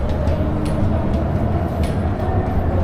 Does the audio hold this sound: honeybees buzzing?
no